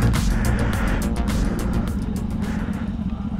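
A Kawasaki Z650RS motorcycle is ridden at a steady pace, its engine droning loud and continuous under strong wind rush, with no pauses.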